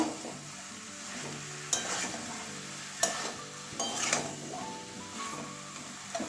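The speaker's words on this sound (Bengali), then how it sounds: "এবারে লাউটা দিয়ে দিচ্ছি লাউটা মশলার সঙ্গে ভালো করে কষিয়ে নেব" Chopped bottle gourd stirred and sautéed with spices in a hot pan for a Bengali prawn and gourd dish: steady close sizzling under repeated scraping stirs and occasional clanks of the spoon against the pan, no talking.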